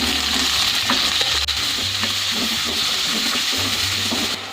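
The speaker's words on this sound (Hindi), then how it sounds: "प्याज को फ्राई होने दूंगी मैं गोल्डन ब्राउन होने तक। इसी ऑयल में फ्राई करूंगी।" Onions frying in oil in a pan, a steady close sizzle with occasional stirring scrapes running throughout with no talk.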